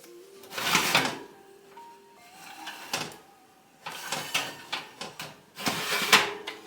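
Oven door and metal muffin tray handled while baking banana muffins: a series of clanks, thuds and scraping clatters in irregular bursts, close and fairly loud, with short quiet gaps between.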